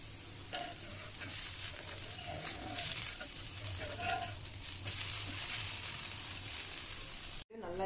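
Dal dosa cooking on a pan over a low flame, a steady soft sizzle and frying hiss running throughout with faint background noise, briefly cutting out near the end.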